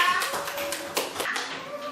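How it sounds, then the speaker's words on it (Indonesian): In an Indonesian classroom, children clap together for a classmate, the claps landing in a quick, fairly even rhythm close by for two seconds. "tepuk tangan untuk teman kita Pia"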